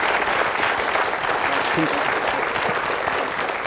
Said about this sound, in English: a very, very full-hearted round of applause there for that win by Jimmy Horahan